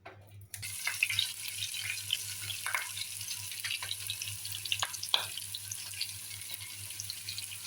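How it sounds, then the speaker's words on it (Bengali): Bitter gourd frying in hot mustard oil, a dense continuous sizzle close up with occasional stirring clicks and scrapes throughout. "এটা সরিষার তেল দিয়ে ভাজা হচ্ছে"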